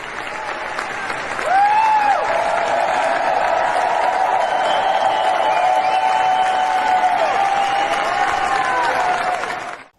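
Loud, sustained applause from a large crowd at the Capitol during the US presidential inauguration, a dense continuous roar that swells after a couple of seconds and holds steady, with a brief voice-like tone mixed in.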